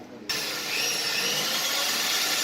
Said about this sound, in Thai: ตอนนี้ก็จะเป็นการ เจาะรูนะครับ เพื่อที่จะเอา ยึดน็อตนะครับ ยึดพุกเข้าไว้นะครับ